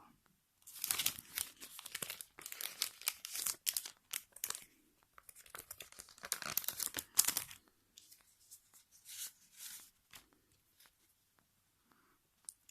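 A Ragnarok Online trading card booster pack wrapper crinkles and tears as it is opened, loud close crackling in bursts for several seconds, then quieter intermittent rustles trailing off to silence.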